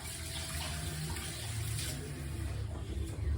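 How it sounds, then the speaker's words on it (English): Running tap water pours steadily into a sink while hands are washed in a kitchen, a continuous close splashing hiss with no talk over it. "Wash my hands."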